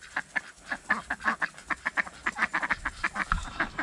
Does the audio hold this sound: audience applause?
no